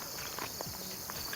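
Insects outdoors at a spot with an abandoned house and the remains of a piano, with a dense steady buzzing and chirring that fills the whole short stretch and no talk over it.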